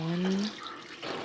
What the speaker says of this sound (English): I'm ready to add the water